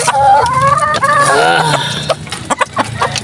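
Backyard chickens cluck and call loudly and close by, several rising squawking notes followed by short clucks, with a person's voice briefly mixed in.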